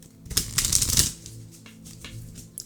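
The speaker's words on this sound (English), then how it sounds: "cannot shuffle right now." Tarot cards being shuffled close by, a few quick riffling flutters and soft slaps in irregular bursts, fairly quiet.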